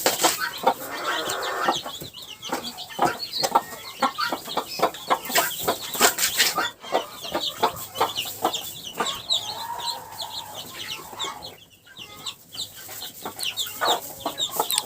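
A broody hen clucks among chicks and guinea keets, repeated low clucks with chirping and scattered wing flutters, close by, with a person speaking now and then.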